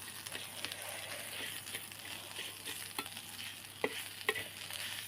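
Green chili thecha being mixed in a pan, a faint, low sizzle under soft scraping and stirring strokes, with a couple of sharper clicks of a spoon against the pan near the end.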